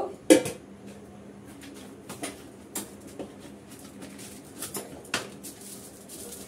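A metal lid set onto a cooking pot of salted rice and chicken in a home kitchen, giving a sharp clatter followed by several lighter clinks and taps of metal on metal, close and clear with no talking.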